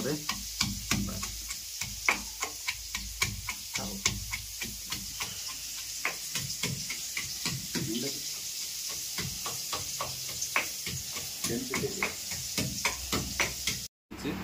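Whole spices frying in hot oil for a chicken curry, giving a continuous close sizzle broken by rapid ticking pops and crackles throughout, with a short dropout near the end.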